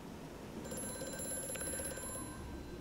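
A telephone rings in the horror video game Amnesia: A Machine for Pigs, a fairly quiet, bright electronic trill that starts after a short pause and repeats its rapid pulsing over a low ambient hum.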